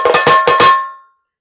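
A quick tassa drum roll of bright, ringing strokes, about five sharp hits fast, then a short decaying ring into silence.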